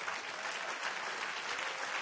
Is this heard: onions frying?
no